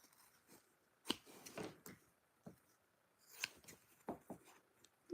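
Scissors snipping through crafting material, cutting out large pieces: a few sharp, close clicks and crunchy cuts spread across the stretch, with quiet pauses between bursts and no talking.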